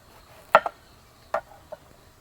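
A knife slices through a Mattu gulla eggplant from Udupi, cut into thick slices: three crisp, close cutting strokes, the first a quick double hit, over a faint steady background hum with no talking.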